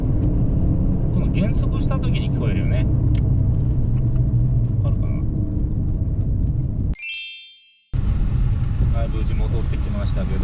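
A Nissan Skyline GT-R R34 decelerating with an abnormal noise: loud, steady engine and road rumble from inside the car, briefly cut off near the end before resuming.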